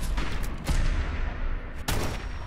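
Gunfire in Fallout 4 during a fight with a Gulper: several loud, sharp shots and bursts crack out one after another, with brief gaps between them and no talking.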